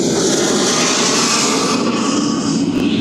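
A small Cessna Citation jet at East Midlands Airport, a steady, fairly loud jet engine hiss and roar that holds evenly throughout.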